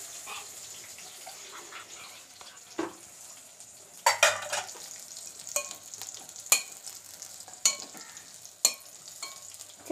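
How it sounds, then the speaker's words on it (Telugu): Mint leaves and green chillies frying in a pan for mint chutney, with a soft continuous sizzle and sharp metallic clacks of a spoon against the pan at intervals. "పుదీనా పచ్చిమిర్చి వేయించుతున్నాను"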